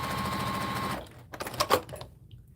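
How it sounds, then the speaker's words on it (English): A serger sewing machine stitches scrappy quilt fabric in a loud, steady mechanical whir that stops after about a second, followed by light handling clicks and movement. "Going to make a scrappy quilt with a serger."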